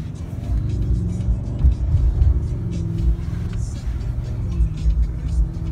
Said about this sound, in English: This is a twin turbo V8.